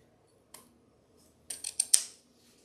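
Scissors snip through ribbon being trimmed for a green bow loop on a chocolate Easter bunny: a single close, crisp cut, then a quick run of three or four snips, with quiet between them.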